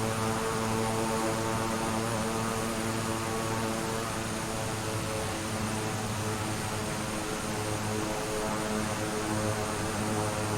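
Beechcraft King Air 350i turboprop landing in Microsoft Flight Simulator 2020, a loud, constant propeller drone with steady engine hum that holds unchanged throughout.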